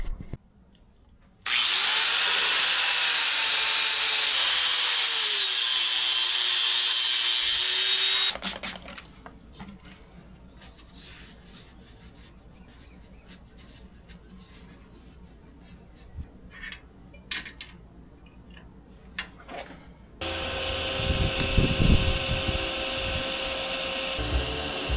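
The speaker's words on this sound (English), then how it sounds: "So let's get some tacks going. Let's start up the welder." Tack welding on a chopper motorcycle frame in a garage brings a loud steady buzzing hiss that stops abruptly, then quiet handling noises and clicks, and a harsher crackling burst near the end.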